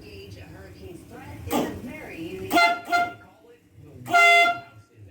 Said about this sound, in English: So I'm going to go with a different sounding horn here.